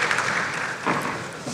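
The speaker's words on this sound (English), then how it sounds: "Let's thank them with a round of applause." Brief burst of conference audience applause, a steady wash of many hands clapping at moderate level for just over a second without standout voices.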